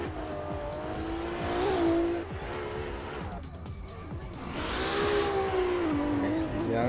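Racing car driving toward the start line in a sim race, a loud revving engine whine swelling and dropping through gears with tire squeal, continuous and close, with commentators talking over it.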